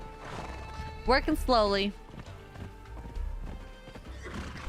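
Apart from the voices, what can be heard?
horse neighing and hooves in video game Conan Exiles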